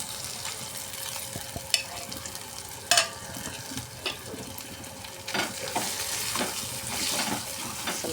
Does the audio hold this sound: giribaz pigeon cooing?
no